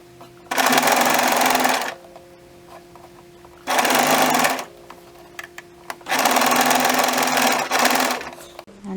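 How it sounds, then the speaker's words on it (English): Sewing machine running a straight stitch around scuba fabric dress pieces, in three sustained bursts of steady whirring separated by short pauses, close and loud. "we're just going to do a straight stitch all the way around"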